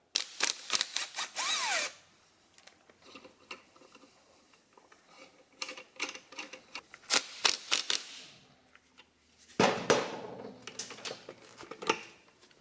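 A power tool working on the flywheel of a Yamaha QT50 moped, heard as short loud rattling impact bursts near the start and again midway and toward the end, with quieter gaps of handling noise between.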